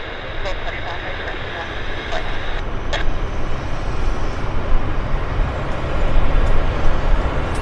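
An Air Canada airliner at Vancouver Airport gives off a steady, broad engine roar that swells slightly toward the end, with people talking over it.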